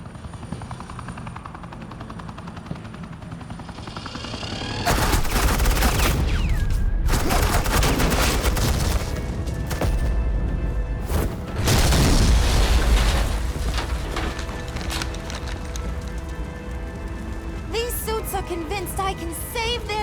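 Suppressing gunfire in the PS5 game Batman: The Enemy Within: dense bursts of automatic fire and explosive blasts over a constant helicopter-like drone, loud and sustained with a brief lull partway through.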